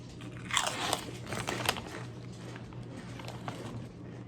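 Kettle-cooked honey potato chips being bitten and chewed up close, a dense run of sharp crunches and grinding mastication with no talking.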